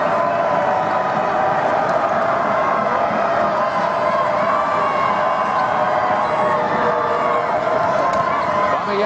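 A crowd in a college men's basketball arena, at a Rutgers home game against FDU, swells into a dense, continuous roar of cheering that holds steady throughout, with commentary voices talking over it.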